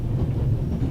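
A steady low rumble of a train rolling on rails, heard from inside a freight car in the video game The Raven, a continuous loud drone with no talk.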